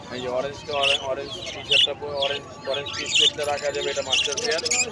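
Three lovebirds chirp in a cage at the Mugda bird market, giving repeated high, sharp calls close by while someone talks over them.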